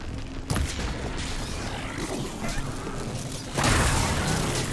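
Booming game explosions go off twice, a sudden blast near the start and a louder one later, over continuous rumbling background noise.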